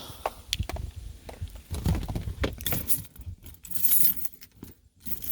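Buick car keys jangle and clink in irregular bursts, close by, with small metallic taps and rattles and no talking.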